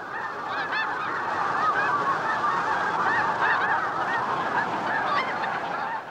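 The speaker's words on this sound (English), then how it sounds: "the great flocks come by. Snow geese, white fronts," A large flock of snow geese, white-fronted, Canada and Ross's geese honks continuously, a dense overlapping chorus of calls from many birds filling the air without pause.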